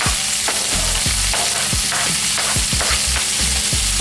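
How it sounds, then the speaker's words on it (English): Fresh vegetables sauté in a hot pan, sizzling loudly and continuously up close while a utensil stirs and scrapes them in a repeated rhythm. "We're gonna saute that up."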